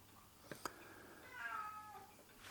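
A pet cat meows indoors in a kitchen during pressure canning, two short clicks followed by a drawn-out, moderately close meow with no talking.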